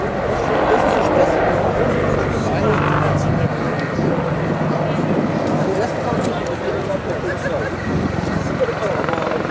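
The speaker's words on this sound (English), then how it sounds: "Paul Watnell there and the Apache team for a tremendously agile display of the British Army's attack helicopter, the Apache." British Army Apache attack helicopter flying an agile display at an air show, a loud, continuous rotor thump and turbine roar sweeping past nearby without letup.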